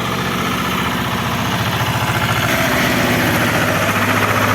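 A tractor's large diesel engine idles on a cold minus-four day, a steady close, loud rumble with a regular low chugging pulse and no talking over it.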